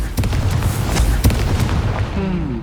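Confringo spell blasts in Hogwarts Legacy, a rapid series of loud booming bursts and sharp pops over a heavy low rumble, ending with a short whooshing tail.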